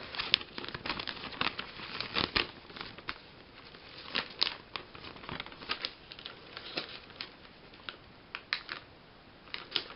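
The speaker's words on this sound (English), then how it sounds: "Grab the Polymailer, put it inside, take the sticky part off" Close crinkling of a plastic polymailer and the peel of its adhesive strip while pinback buttons are packed, a quiet run of small ticks, rustles and crackles with no talking.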